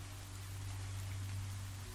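Rain falls steadily as an even, hissing wash throughout, with a low steady hum underneath and no voices.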